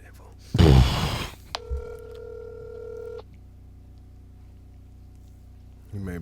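Phone call being placed: a burst of keypad dialing, then a steady ringback tone lasting about two seconds, with a voice cutting in at the end.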